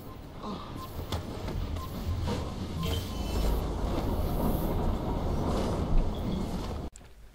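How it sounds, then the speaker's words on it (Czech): A train rolls past in Assassin's Creed Syndicate, rumbling loudly with rattling wheels and metallic squeals that build to a peak and cut off abruptly near the end. "teď jenom aby jel vlak a mohl trošičku zbrzdit"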